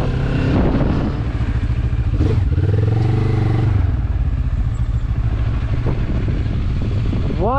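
A Benelli TRK 702 motorcycle rolls downhill on a steep mountain road, its engine a steady low drone with rattling clatter and wind rush, loud and close, with no one speaking.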